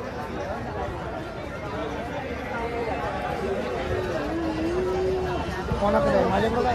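Dense crowd chatter and babble fill a packed street during Pune Ganpati darshan, a steady murmur of many voices with a nearer person speaking over it at times.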